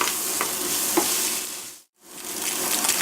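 A mushroom mixture fries in a pan while being stirred, a dense close sizzle with a couple of light scraping knocks, cut by a sudden brief silence before the hiss resumes.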